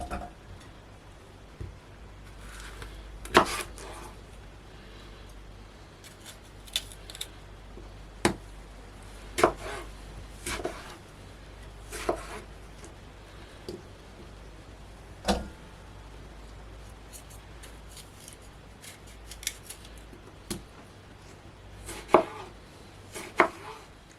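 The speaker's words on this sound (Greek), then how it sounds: "Λοιπόν, την κόβουμε σε κομματάκια, τη βάζουμε σε κατσαρόλα" Tomatoes are chopped into small pieces on a cutting board in a home kitchen, with sharp knife knocks landing at an irregular pace, fairly close but quiet, over a steady low background hum and no speech.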